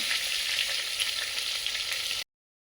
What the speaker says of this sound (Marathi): अशा पद्धतीने व्यवस्थित परतून घ्यायची वांगी